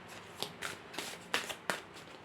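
Playing cards handled and dealt into two piles, a run of short crisp riffling slaps and flicks, close and fairly quiet with brief pauses between.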